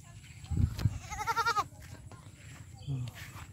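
Native breed goats grazing on a riverbank by a village road, one bleating in a clear wavering call nearby, with a person talking and other soft farmyard noise around it.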